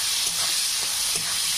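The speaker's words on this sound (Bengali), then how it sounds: "কেটে রাখা উচ্ছেগুলো ভেজে নেবো" Bitter gourd pieces fry in hot oil seasoned with salt and turmeric, giving a steady, close sizzling hiss with faint crackles throughout, no voices.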